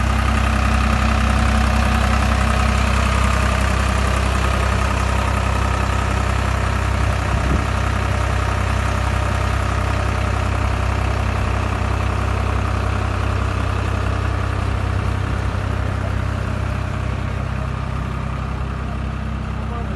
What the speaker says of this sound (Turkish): Traktörümüz Same 55. Gördüğünüz gibi arkadaşlar. Traktör 11 gaz sabit.